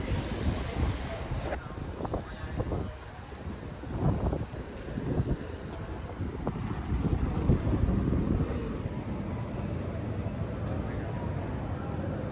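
Wind buffets the microphone outdoors at the Al Mina Mosque in Hurghada, Egypt, with heavy low rumbling gusts and hiss over several seconds while someone speaks throughout.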